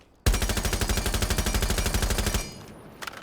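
Automatic gunfire from a weapon fitted with an extended barrel in Rainbow Six Siege: one loud, close, rapid burst of evenly spaced shots lasting about two seconds, then a brief tail and a faint click.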